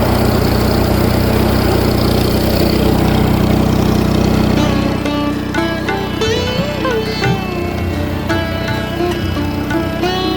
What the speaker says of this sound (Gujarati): અહીંયા વાડી દવા છાંટવા ટ્રેક્ટર બ્લોઅર બધું રેડી